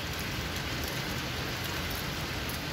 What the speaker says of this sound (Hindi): दिल्ली में अचानक से बारिश हो गई है।